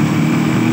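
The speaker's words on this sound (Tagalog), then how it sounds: "maingay na naman po yung ating motor" A steady, loud motorcycle engine drone with a low rumble runs continuously through the short moment, with no voices over it.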